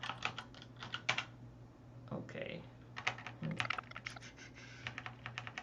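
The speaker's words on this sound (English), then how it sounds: "The clicking is my very loud keyboard." Rapid, loud keyboard typing in uneven bursts, with a brief spoken word and a low steady hum underneath.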